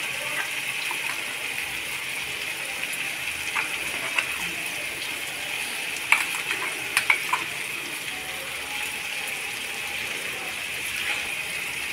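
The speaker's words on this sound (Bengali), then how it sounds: "এখন পেস্ট করা মশলাটা ঢেলে দিলাম।" Ground mustard spice paste hits hot oil in a pan for a hilsa fish curry, giving a steady soft sizzle with a few small clicks and pops, close and moderate in level with no talking.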